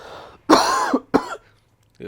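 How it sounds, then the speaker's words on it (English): Two sharp, close throat-clearing coughs from a man with a bit of a cough break out in quick succession, then a short quiet pause before a faint voice resumes. "I do have a bit of a cough."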